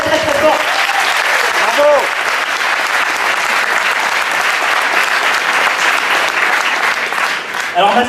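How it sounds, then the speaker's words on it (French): Sustained applause from an audience at a 2017 Paris tournament event, a dense continuous wash of many hands clapping for the whole stretch, loud and close, with a speaker's voice rising above it briefly at the start and end. "Je vous demande encore une fois de les applaudir très fort"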